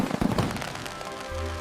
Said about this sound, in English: Blue fireworks sparkle bright, glowing magic in the night.